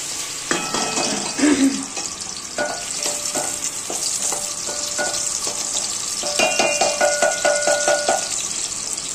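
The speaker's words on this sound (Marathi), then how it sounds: "आता इकडे आहे ना तेल तापत ठेवलेलं आहे. त्याच्यात कांदा भाजून घ्यायचा चांगला थोडा. हा त्याचा मसाला भाजतोय." Chopped onion and masala sizzle loudly in hot oil for matki misal, with bursts of scraping and clinking as a spoon stirs the pan. No one speaks over the crackle.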